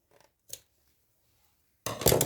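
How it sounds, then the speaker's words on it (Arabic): Scissors cut into a cloth bag with a couple of faint, quick snips, followed by a louder, crisp burst of cutting and rustling fabric close by, with no talk. "بس اجيب مقص، خلينا نقص"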